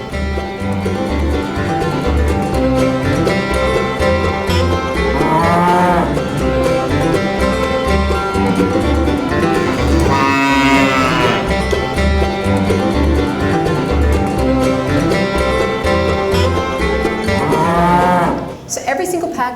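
Cows mooing over a loud, continuous music bed in a promotional piece about printed packaging that folds into origami cows; several drawn-out moos rise through the music, ending in a brief pause.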